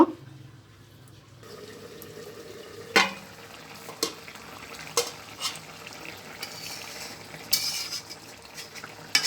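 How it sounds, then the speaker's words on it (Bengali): Baile fish curry with tomato simmers in a pan and is stirred, giving a soft bubbling sizzle broken by several sharp scrapes and knocks of the utensil against the pan, with no talking. "একটু নাড়াচাড়া করে দিচ্ছি মাছটা"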